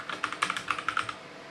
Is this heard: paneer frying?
no